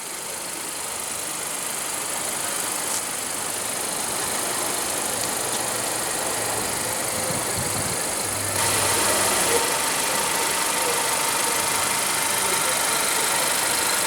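A 2016 Acura ILX with a 2.4-liter inline four-cylinder idles steadily after start-up, a continuous mid-pitched engine hum with light mechanical ticking and vibration, heard fairly close with no talk.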